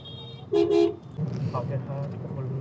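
Busy roadside traffic in Bangladesh with rickshaws, vans and motor tomtoms, a sharp double car-horn toot standing out near the start over a steady road rumble, with voices talking nearby.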